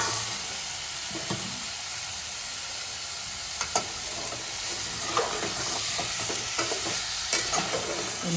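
Mutton coated with turmeric and salt sizzles and fries steadily in a pan, with intermittent scraping stir strokes and clinks of the spoon throughout, fairly close and without talk.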